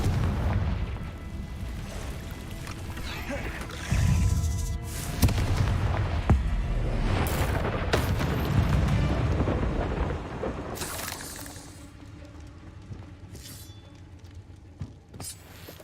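Repeated booming blasts from the Confringo fire spell in Hogwarts Legacy, a run of loud explosive bursts close together, then quieter rumbling toward the end.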